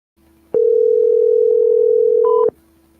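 A telephone dial tone during number dialing, a loud steady tone that starts abruptly, holds for about two seconds with a brief higher keypad beep near the end, then cuts off, with quiet line hiss around it.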